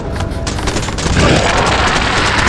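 Loud, dense gunfire in the video game Choo Choo Charles, rapid rattling bursts and booms that build into a continuous barrage, close and heavy.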